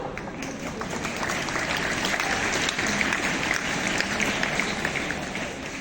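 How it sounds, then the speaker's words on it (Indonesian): A large crowd of students claps steadily through a school orientation opening ceremony at SMAN 1 Kejayan, Pasuruan, producing dense, even applause that holds for nearly six seconds without talk. "Tepuk tangan dulu."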